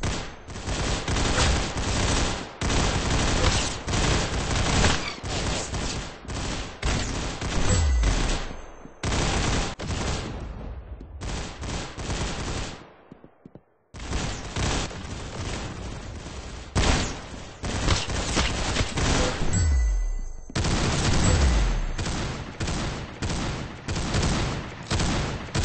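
Dense, loud bursts of video game gunfire from Arsenal, with rapid automatic fire in long volleys and brief pauses, carrying on with no speech over it.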